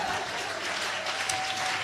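Brief, steady clapping and cheering from a church congregation at a sermon on marriage, heard at moderate level with a faint sustained tone underneath.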